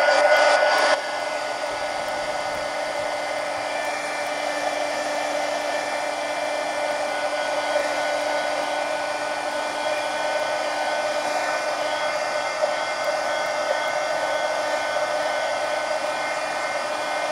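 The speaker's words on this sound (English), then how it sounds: "let me go ahead and dry this guy so I don't stick my hand in that wet white paint" A hair dryer blows steadily on wet white Americana craft paint on a mixed-media coloring book page, starting with a louder burst and then settling into an even, close whir with no talking.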